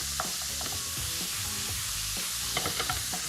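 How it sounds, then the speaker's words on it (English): Minced beef fries hard in a hot pan while a spoon breaks it up, giving a dense constant sizzle punctuated by repeated close scraping and clacking strokes, with no voices. "frying off the mince for colour"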